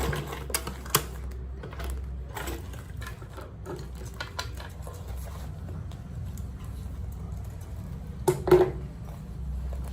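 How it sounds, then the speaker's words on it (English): A sewing machine back stitching on a shoulder bag runs in short bursts with irregular clicks and taps over a low mechanical hum, close by and fairly quiet, no voices. "I'm just going to back stitch when I get to the end."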